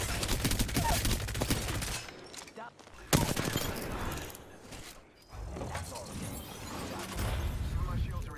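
Dense bursts of automatic gunfire and clattering action from an Apex Legends team fight, continuous and loud with a short lull in the middle, as a voice talks over it.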